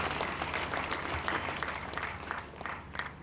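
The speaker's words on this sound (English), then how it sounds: "Please, can you clap hand for University of Calabar?" Applause from the audience at a university inaugural lecture in Calabar: a dense, even clapping of many hands, heard from a little distance and fairly soft, continuous throughout with no speech over it.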